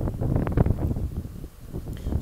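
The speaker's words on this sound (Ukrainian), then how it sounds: "і тут вітер. Такий сильний" Strong wind blows outdoors in a park in Antalya, buffeting the microphone in rough, uneven gusts that stay loud and close for a couple of seconds, with no clear voices.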